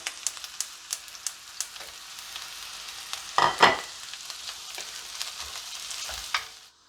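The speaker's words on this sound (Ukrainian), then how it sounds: "На розігріту сковорідку виливаю олію декілька столових ложок і починаю обсмажувати" Close sizzling of onion frying in hot oil in a pan, with occasional sharp taps and a louder burst of crackling as it is stirred.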